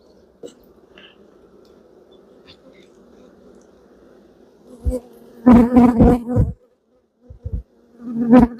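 A honeybee colony hums in a low, steady drone during a hive inspection, with loud knocks and rustling bursts from handling the frames later on.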